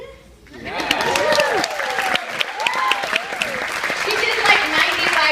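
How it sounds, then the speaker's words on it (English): A wedding crowd gives the bride a round of applause, a dense burst of clapping that swells after a quiet start and keeps going steadily, with a voice talking over it. "could the bride get a round of applause for her craftiness?"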